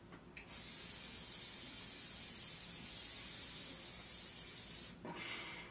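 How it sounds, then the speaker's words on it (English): VO5 Ultimate Hold hairspray sprays in one long steady hiss lasting about four and a half seconds, close and loud, with brief rustling before and after. "I am just going to do a random spray all over my head first of all"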